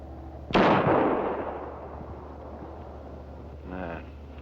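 A single loud gunshot rings out, fired at a target on a post outdoors, with a long fading echo and a brief voice-like sound near the end.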